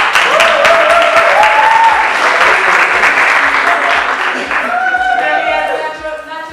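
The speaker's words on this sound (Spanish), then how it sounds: "Un aplauso, por favor" An audience at a youth peace and reconciliation course bursts into loud, dense applause that gradually thins out, with scattered voices and a tonal whistle-like sound riding over the clapping.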